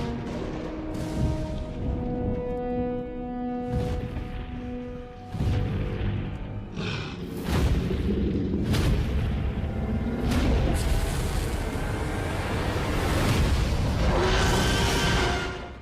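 T-Rex footsteps in a Jurassic Park Survivor game trailer land as a series of heavy, deep booming impacts at fairly regular intervals, mixed with tense music.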